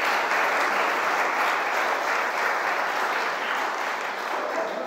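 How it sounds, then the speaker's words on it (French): A church congregation applauds Jesus in a dense, steady wash of clapping that holds loud and even for five seconds, with no voices rising above it. "On applaudit Jésus quand même"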